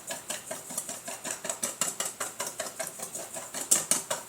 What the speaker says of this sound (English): It might be even better to just give it a good whisking.